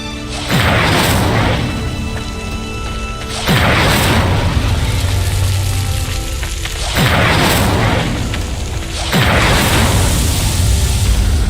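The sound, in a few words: Incendio fire spell flames in video game Hogwarts Legacy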